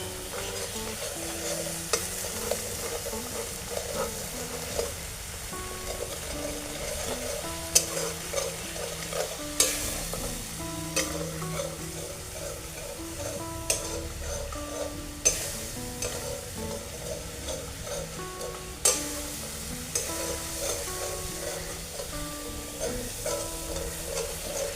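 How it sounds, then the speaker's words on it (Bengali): Coriander paste cooking down with salt, turmeric and a little sugar for a village-style fish curry, a steady sizzle in the pan with frequent scraping stirs throughout, close and alone with no voices. "সব কিছু দিয়ে আবার বেশ কিছুক্ষণ কষিয়ে নেব"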